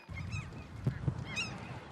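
Geese honking at a bird-watching site in Anchorage, Alaska, with several loud, nasal calls from close by ringing out over a steady outdoor background.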